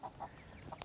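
Hens with young chicks being mixed into a larger backyard flock, giving soft, faint clucks and brief chirps in a few short bursts over a quiet outdoor background.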